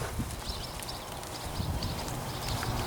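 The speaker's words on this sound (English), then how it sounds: "right now I'd like Sam just to demonstrate just a normal posting trot" A horse's hooves strike the ground in the steady, even rhythm of a posting trot. The hoofbeats are close and fairly loud over constant arena noise.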